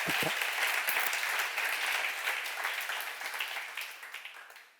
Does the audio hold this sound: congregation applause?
yes